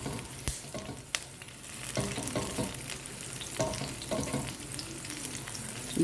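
Mixed vegetables fry in hot oil with garlic, with a loud, continuous close-up sizzle broken by repeated clattering stirs and scrapes of the pan.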